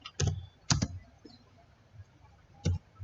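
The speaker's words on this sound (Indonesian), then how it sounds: "kita ketikkan cat" A command typed on a computer keyboard during an encryption lab, a handful of sharp, close key clicks spaced unevenly, with softer key noises between them in a quiet room.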